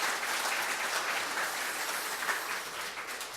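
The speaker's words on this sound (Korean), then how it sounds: "한번 박수로서 한번 우리 같이 한번 표현해 보면 좋겠습니다." Church congregation clapping after a choir's hymn, a steady wash of many hands applauding together, moderately distant, with no voices over it.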